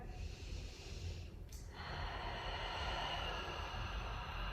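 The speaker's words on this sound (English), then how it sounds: "Just take a couple of breaths here." During a gentle yoga session, someone takes slow, deep breaths close to the microphone. A steady, airy rush of breath continues without a break, with no speech over it.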